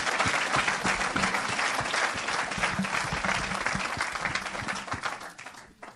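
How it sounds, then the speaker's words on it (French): A church congregation at a question-and-answer teaching session breaks into strong applause and acclamation for the preacher, sustained clapping that stays dense, then fades away near the end. "Il mérite les acclamations, notre maître"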